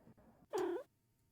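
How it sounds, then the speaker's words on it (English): A goblin cat in the Warsim video game gives one short, clear cat vocalization lasting under half a second, set against a quiet background. "The goblin purrs."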